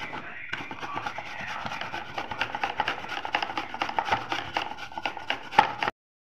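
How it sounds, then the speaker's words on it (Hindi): Two potatoes rubbed against a kitchen grater, a steady run of quick, rhythmic rasping strokes that stays close and fairly loud, then stops abruptly near the end. "ये लिए हैं मैंने 2 पोटैटो और इन्हें भी अच्छे से इसमें ग्रेट कर लेना है।"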